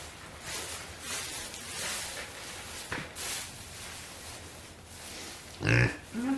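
Pigs grunting during November farm chores, low soft grunts scattered through a quiet background, with one louder, closer grunt near the end.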